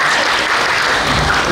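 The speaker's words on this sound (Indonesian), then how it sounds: "Kita tepuk tangan." Audience applause at a public anti-hoax declaration event in Jambi city forms a brief, dense, continuous burst of many hands clapping, loud and even throughout.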